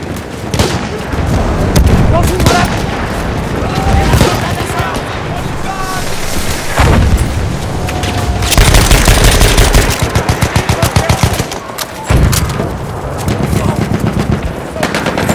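Rapid machine-gun bursts and booming explosions from Battlefield 1 multiplayer Operations mode with mortar fire, loud and nearly continuous, dense staccato volleys rattling over rumbling blasts throughout.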